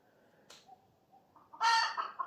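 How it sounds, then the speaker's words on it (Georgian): Chicken clucking, faint at first and then a louder burst of clucks near the end, with no talk over it. "ახლა ქათამია"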